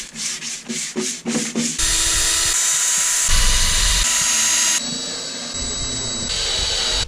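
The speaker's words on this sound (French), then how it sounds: "Et pour ça on va utiliser la perceuse visseuse." A cordless drill driver bores into wooden boards. A few short whirring pulses come first, then a long steady high-pitched whine that shifts in pitch partway through. The sound is close and loud, with no talking.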